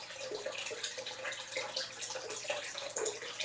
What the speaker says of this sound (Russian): Сейчас буду заливать водичку.